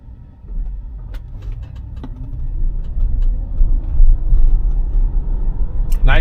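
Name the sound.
Tesla car accelerating from a turn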